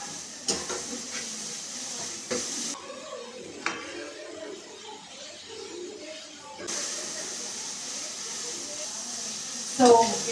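Ginger garlic paste fries in a pan, a steady close sizzle and hiss with occasional stirring scrapes, while someone talks over it.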